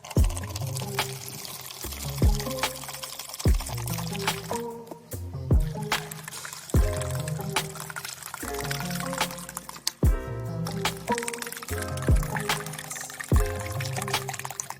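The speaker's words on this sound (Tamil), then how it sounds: "இந்த 3 லிட்டர் தண்ணியை இந்த பக்கெட்ல நம்ம ஊத்திடலாம்." Three litres of water pour into a plastic bucket in repeated splashing bursts with drips between them, fairly close and moderately loud, with no speech.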